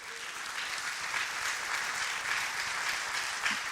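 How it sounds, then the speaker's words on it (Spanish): A church audience applauds loudly and steadily throughout, a dense, even wash of clapping with no speech over it. "Dale un fuerte aplauso al Señor"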